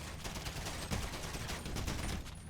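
Gunfire in an online multiplayer video game match, a steady rattle of rapid shots and bursts throughout at a fairly low level, with no voices.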